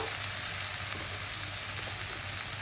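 Masala for palak paneer sizzles in a hot pan as cumin powder goes in, a dense, even hiss of frying heard up close without any talking.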